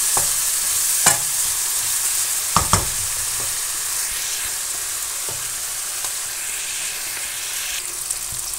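Spice masala for moong tadka dal fries in oil with a soft continuous sizzle, broken by a few sharp clinks and scrapes of a spoon stirring the pan, close up and without speech.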